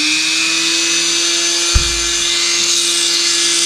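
A high-speed rotary tool capable of 35,000 RPM whines steadily at a high, constant pitch while cutting into a golf ball cover, with a brief low thump partway through.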